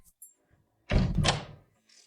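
A door swings shut in a single loud, full-bodied thud with a brief rattle, close by, after a quiet moment with a few faint clicks.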